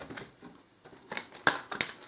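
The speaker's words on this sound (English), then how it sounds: "I'll just do a little bit more shuffling." A deck of tarot cards is shuffled by hand, giving soft papery rustles and crisp riffling snaps in short irregular bursts, close and fairly quiet, with no talking.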